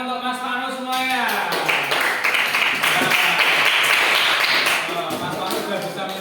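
A class applauds a student. After a brief spoken lead-in, the room fills with several seconds of lively, close clapping that tapers toward the end.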